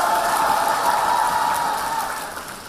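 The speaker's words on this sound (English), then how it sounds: "Give Oriflame China a big applause" A seminar audience applauds in a dense, steady wash of many hands clapping, sustained and fairly loud, fading slightly toward the end.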